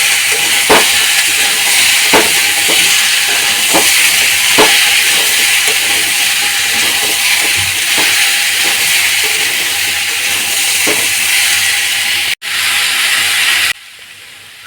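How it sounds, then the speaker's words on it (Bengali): Vegetables are stirred in a pan of cooked-down spice paste for shahi sabzi, giving a steady, close sizzling hiss with scattered clicks and scrapes from the stirring. The sound drops out briefly near the end. "সব সবজিগুলো কষানো মশলার উপর দিয়ে ভালো করে নাড়াচাড়া করে নেব।"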